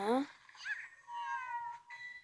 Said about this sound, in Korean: 고양이 소리 좀 그만 내 듣기 싫어